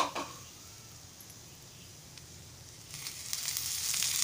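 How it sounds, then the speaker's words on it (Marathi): Onion roasts in oil on a hot tawa griddle for a Malvani crab curry, a soft steady sizzle that grows louder and brighter toward the end. "कांदा लालसर होईपर्यंत आपण तव्यावर भाजून घ्यायचा आहे"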